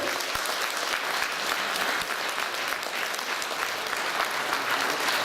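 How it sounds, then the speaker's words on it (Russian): A crowd at an evening concert of a song and epic-performance contest gives performers a dense, continuous round of applause, loud and steady throughout with no pauses. "Бурными аплодисментами провожаем участников за кулисы"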